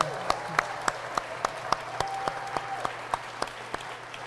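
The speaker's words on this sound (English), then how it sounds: "Let's have another round of applause for them." At a book awards ceremony, a few individual claps ring out in a slow, even rhythm, roughly one every third of a second, sparse and fairly quiet against a soft room background rather than a full round of applause.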